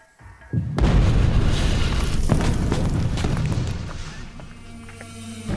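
A sudden heavy dynamite blast at a gold mine booms out, then a long, deep rumble rolls on and slowly fades, with no voices.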